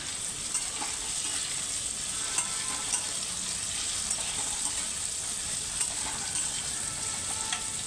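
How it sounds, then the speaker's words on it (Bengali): Pav bhaji masala fries and is stirred in a pan, a steady close sizzle with occasional soft scrapes and clinks of the spoon, no talking. "একটু নাড়াচাড়া করে দিচ্ছি।"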